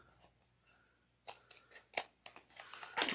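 Scissors snip loose threads off a fabric zipper tail while a sunglasses case is sewn. A few quiet clicks come first, then a quick run of close, crisp cuts that grows busier and louder toward the end.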